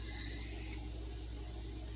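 A Kershaw knife of fairly soft steel slides across a hard Arkansas oil stone in one brief, soft rasping stroke, then goes quiet over a low hum.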